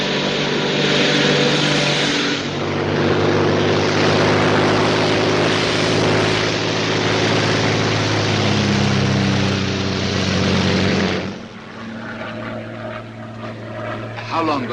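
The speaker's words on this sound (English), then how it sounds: "a Royal Air Force plane is waiting for us at a secret landing place" A Royal Air Force propeller plane in flight gives a loud, steady engine drone with a continuous rumble that holds for most of the span, then drops off near the end as talk follows.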